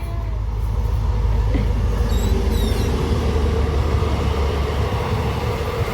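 A train rumbles past nearby, a loud continuous low roar with rhythmic rattling of cars that holds steady throughout, with a few faint squeaks above it.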